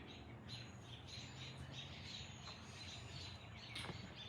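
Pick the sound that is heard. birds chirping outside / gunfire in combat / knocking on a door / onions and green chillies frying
birds chirping outside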